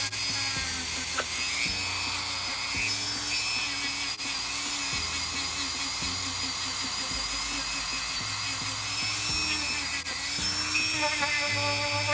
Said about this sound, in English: So if I have the Dremel here,